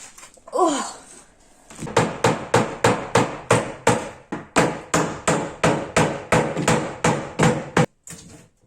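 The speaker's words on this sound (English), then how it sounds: "a hammer." A hammer strikes an old wooden kitchen cabinet being restored in a steady run of about eighteen loud, close knocks, each sharp and evenly spaced, preceded by a brief scrape.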